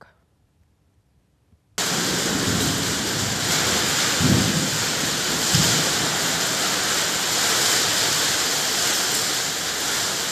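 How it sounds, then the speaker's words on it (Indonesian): Heavy rain pours during a tornado-force windstorm in Depok, Indonesia, with a loud, dense, continuous roar that starts abruptly and carries a few low rumbles. No voices are heard. "sejumlah rumah hancur diterjang angin puting beliung saat hujan deras melanda kota Depok"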